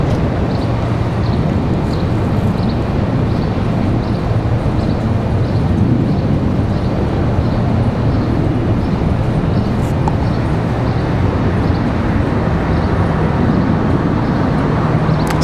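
A Boeing Dreamliner jet airliner bound for Athens gives off a steady, broad engine roar at Washington Dulles, loud and continuous throughout with no pauses or speech.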